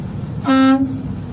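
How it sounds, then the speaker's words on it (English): A single loud, brassy truck air horn blast sounds for about a third of a second, nearby, over a steady low engine rumble. "my city horn, my air horn,"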